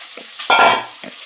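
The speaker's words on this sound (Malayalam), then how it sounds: "നന്നായി ഇളക്കി കൊടുക്കുക." Mackerel fish curry being stirred in a pan, a Kerala-style country fish curry, gives off a close wet sizzling scrape, one louder stir burst in the middle between softer ones, with no talking.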